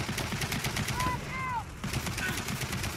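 Gunfire from the Gears of War 4 video game, dense bursts of rapid shooting running steadily through the whole stretch amid battle noise, with a voice talking briefly over it.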